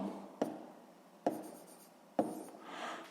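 Pen or pencil writing out a sixth-grade math exercise solution on paper: three sharp taps, each followed by soft scratchy strokes, close and quiet, with no speech.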